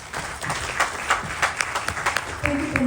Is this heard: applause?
yes